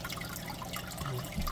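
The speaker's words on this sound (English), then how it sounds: "it pushes a lot of water through it" An AquaClear 110 hang-on-back aquarium filter pushes water steadily in a continuous, close rushing and trickling wash with no talk.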